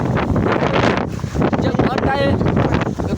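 Strong, steady wind roars and buffets the microphone throughout, a continuous rushing noise with brief lulls.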